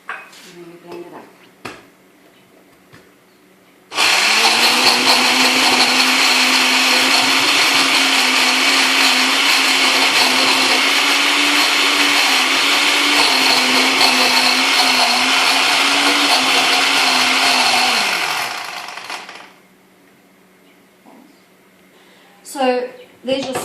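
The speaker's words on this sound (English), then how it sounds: "And then we blend it up." A blender purées a sauce with red wine in one loud, continuous whir lasting about fifteen seconds, with brief clatter and talk before and after.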